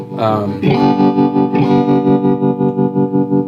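Guitar through the tremolo effect of a Lafayette/Univox U65RN solid-state amplifier, sustained chords pulsing in a steady wavering rhythm, loud and close with a wash of reverb.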